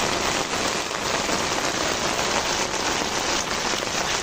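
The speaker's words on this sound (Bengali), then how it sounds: "এখনো বৃষ্টি পড়তেই আছে।" Heavy monsoon rain pours over Dhaka, a dense, unbroken hiss of drops on surfaces, loud and steady throughout with no voices.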